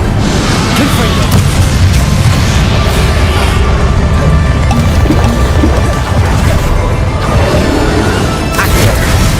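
Confringo blasting spell explodes in the Hogwarts Legacy video game amid loud, dense combat noise of repeated booms, crashes and whooshes, with a voice talking over the clamor.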